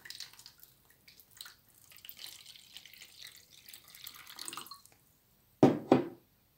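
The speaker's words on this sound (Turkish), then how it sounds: "Hemen ılık su ekliyoruz." Warm water poured into an aloe vera plant pot: faint trickling and dripping through most of the stretch, ending in a short, louder splashing pour near the end, with no talk.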